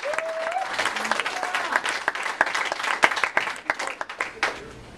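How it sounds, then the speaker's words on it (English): A comedy club audience applauds as a stand-up comedian is introduced, with crisp, fairly dense clapping that thins toward the end and a voice briefly audible at the start. "Round of applause for Steve"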